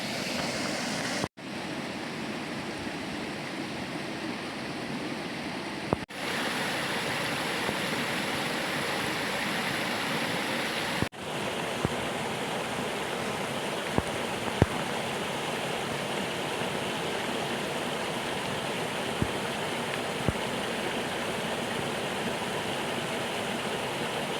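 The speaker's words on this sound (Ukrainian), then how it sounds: "Але дощ усилюється, сильний дощ, сильний дощ." Heavy rain pours steadily under a bridge at a perch fishing spot, a loud dense continuous hiss with scattered drips and taps, and no voices.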